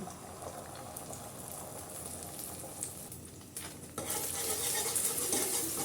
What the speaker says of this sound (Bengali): ফেটে রাখা ডিমগুলো দিয়ে দিব